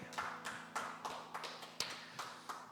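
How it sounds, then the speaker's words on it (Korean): Steady rhythmic clapping from a church congregation, about three claps per second, faint and somewhat distant, over a low steady hum. "하나님 아버지께 큰 박수로 영광을 올려드리겠습니다"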